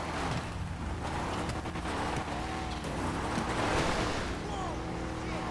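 A Duke O'Death car in GTA V ploughs through deep water, a steady rushing, splashing wash with engine rumble underneath, loud and continuous throughout with no talk.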